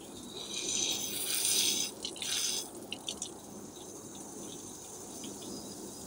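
A brass gun-style garden hose nozzle sprays water with a steady, close hiss that runs loudest for the first couple of seconds, dips with a few spluttering bursts, then settles into a softer, even rush.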